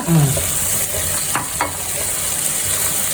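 Vegetables (carrot, green beans, peas) hitting hot oil with toasted cashews in a one-pot pulao, a sharp sizzle followed by steady frying hiss and a couple of stirring scrapes, close and alone.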